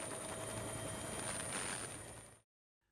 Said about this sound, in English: Helicopters are lifting families from rooftops